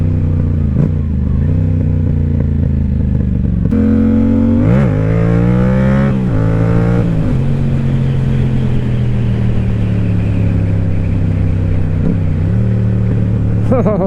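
A motorcycle engine heard up close while riding, a loud steady drone whose pitch rises and falls with throttle, shifting through revs and settling back into a constant cruising hum.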